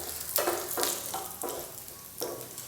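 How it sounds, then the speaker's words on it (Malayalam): Dried red chillies and urad dal are sautéed in a pan, giving a faint, steady sizzle with several soft bursts of stirring scrapes spaced through it. "വറ്റൽമുളകും ചേർത്ത് കൊടുത്തിട്ട് ലൈറ്റായിട്ട് ഇതെല്ലാം ഇതുപോലെ ഒന്ന് വഴറ്റി കൊടുക്കാം."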